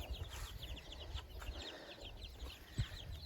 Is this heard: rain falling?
no